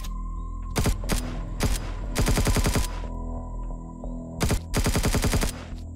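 Automatic gunfire from shooting Zirax laser soldiers in the space survival game Empyrion Galactic Survival: single shots and rapid rattling bursts, loud and close over a steady low hum, with no talking.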